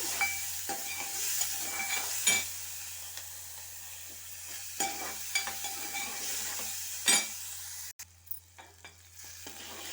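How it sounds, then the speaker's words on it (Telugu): Onions and green chillies frying in a pan for a biryani gravy, an even close sizzle broken by sharp spatula scrapes and taps against the pan at irregular intervals. "ఉల్లిగడ్డలు మిర్చి వేసి బాగా వేయించాలండి"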